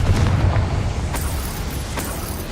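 A Confringo blasting spell goes off in Hogwarts Legacy: a loud, deep rumbling explosion with a long roaring tail, punctuated by sharper crackling bursts as debris and flames scatter.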